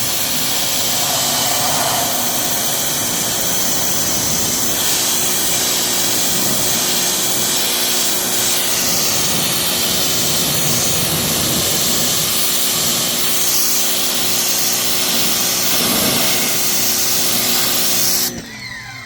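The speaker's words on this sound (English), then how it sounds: "Amazing what a little pressure washer can do" A steady, loud hiss and roar of a small pressure washer spraying down a 1990 GMC Sierra C2500 diesel truck, continuous and close for most of the stretch, then cutting off at the end.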